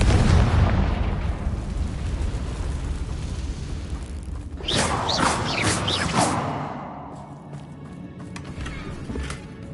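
Confringo blasting spell from the Hogwarts Legacy video game bursts loudly midway as a single fiery explosion with a crackling whoosh, standing out over a dense rumbling game soundscape, then fades into quieter ambience.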